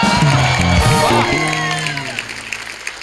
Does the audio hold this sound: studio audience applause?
yes